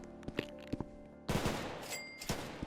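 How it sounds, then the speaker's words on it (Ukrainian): Gunfire in the Roblox video game: a few scattered single shots, then a dense loud burst of rapid fire with trailing shots, no voices over it. "Я пристрелив того чувака, Дімас."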